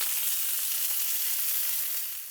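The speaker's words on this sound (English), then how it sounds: "into a really, really hot griddle pan so you get that sizzle" Chicken sizzles loudly in a very hot griddle pan, a dense steady crackle and hiss that fades slightly at the end.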